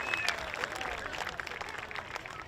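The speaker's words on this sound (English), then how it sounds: "Give him a round of applause right here." A crowd at a world hoop dance championship applauds for a dancer, a continuous moderate wash of clapping and cheering with a few whistles near the start.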